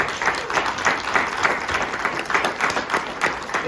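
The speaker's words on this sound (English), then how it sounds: "So give yourselves a round of applause." Green Bay Packers fans at a Fan Hall of Fame event applauding, a loud, continuous crowd of clapping hands that swells in slight rhythmic pulses.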